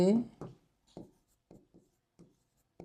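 A marker or chalk is written on a board during a math lecture on the Newton-Raphson method, with a few short, soft scratchy strokes spaced apart after a brief burst of speech at the start.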